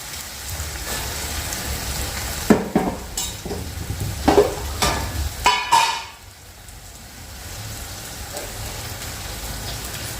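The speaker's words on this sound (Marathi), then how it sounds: "कांदा थोडासा गुलाबी रंगावरती परतून घ्यायचा आहे" Onion, tomato and green chili sautéing in a pan, a continuous sizzle with repeated scraping stir strokes and sharp clinks, then settling to a softer frying hiss.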